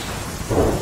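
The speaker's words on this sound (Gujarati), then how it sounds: "3 દિવસથી થઈ રહ્યો છે વરસાદ" A heavy, continuous downpour hisses loudly, with a low rumble of thunder swelling toward the end, after days of torrential rain.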